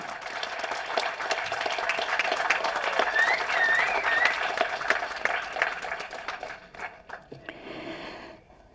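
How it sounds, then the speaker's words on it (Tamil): Audience applause fills a hall at a Tamil film trailer launch event, steady dense clapping sustained for several seconds before thinning out toward the end, with a faint voice and whistle-like tones riding over it. "கைத்தட்டல் வேணும்."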